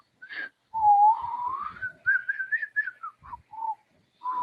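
A person whistles a wavering melodic tune in several short phrases, close and clear, with brief pauses between notes.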